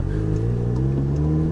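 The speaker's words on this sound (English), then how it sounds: "you would hear the engine rev taking off" A VW Golf GTI Mk7 with an upgraded IS38 turbo revs while accelerating from a launch, giving a loud, steady engine drone with strong low harmonics throughout, no talking.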